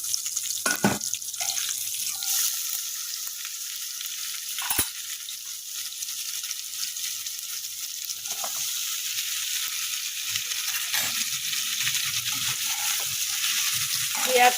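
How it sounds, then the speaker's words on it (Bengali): Pointed gourd and hilsa fish heads frying in oil give a moderate sizzle that runs throughout, broken by a few sharp clatters of utensils. "তেলের মধ্যে পটলগুলোকে একটু ভেজে দিব"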